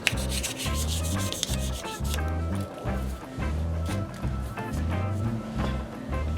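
A wood pen blank being sanded with 1000 grit sandpaper, probably spinning on a lathe, producing rhythmic scratchy rubbing strokes close by with brief pauses between passes.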